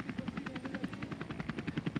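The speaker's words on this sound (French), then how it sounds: "un petit coup d'œil vers l'hélicoptère" A helicopter hovers over a motorcycle race on a beach, its rotor chopping steadily and faintly from a distance, with no voices.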